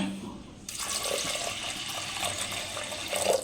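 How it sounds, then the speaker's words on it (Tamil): Water pours steadily into a pressure cooker while cooking mango kadaiyal, a continuous splashing rush that starts abruptly and runs close by. "ஃபஸ்ட்டு வந்து தண்ணி ஆட் பண்ணிக்கலாங்க"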